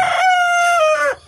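A mature rooster in a backyard coop gives one loud, close crow lasting just over a second. The call rises and holds steady, then tails off at the end.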